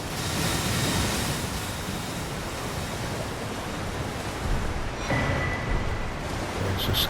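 A waterfall in the video game Elden Ring gives a steady, broad rushing roar of falling water that holds constant throughout, with a slight change in tone near the end.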